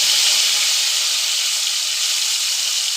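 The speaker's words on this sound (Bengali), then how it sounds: "এবার আমি আলুগুলোকে ভেজে নেব ভালো করে।" Potatoes fry in a pan over a gas flame turned low, with no water added. A loud, steady sizzling hiss continues unbroken throughout and no one speaks.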